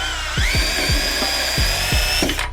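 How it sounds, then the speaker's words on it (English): A power drill whirs steadily while removing a screw during a lift install on a Can-Am Ryker 600, with a series of sharp knocks and clicks, ending with the motor spinning down. "grab the drill just so I can"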